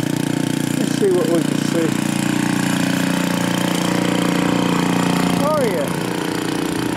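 A hydraulic rig's engine runs steadily in the open near Rogersville, Missouri, a loud constant mid-pitched drone with a slight dip near the end, while someone speaks briefly over it.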